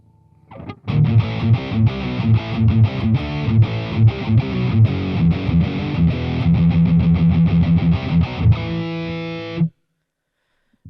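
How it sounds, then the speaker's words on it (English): Electric guitar played through a Boss Katana MKII amp with plate reverb, a steady run of distorted picked notes and chords with a bright reverb wash, ringing out and decaying to silence near the end. "I want to go to plate so you can hear the plate reverb."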